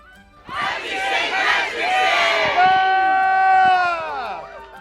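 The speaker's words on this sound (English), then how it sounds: "and also cheering" A large crowd at a St. Patrick's Day parade in Milford cheers and whoops loudly, voices rising into shouts and hollers that build and sustain for several seconds.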